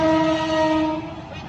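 A train arriving, its horn sounding a sustained, loud, multi-tone blast that fades out after about a second over a low rumble.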